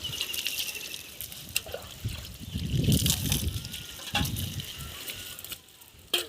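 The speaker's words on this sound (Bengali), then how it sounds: "বালতিতে করে জল এনেছি। এবারে আমি এই গাছটার ওপরে দেব।" Water poured from a bucket over a potted plant to wash it, a trickling, splashing stream that swells and fades with a few knocks, with some voice in the background.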